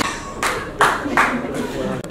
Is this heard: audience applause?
yes